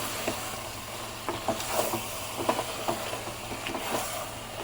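Chicken sizzles steadily with masala in a pan, a continuous close hiss broken by occasional soft stirring scrapes and clicks, with no talking.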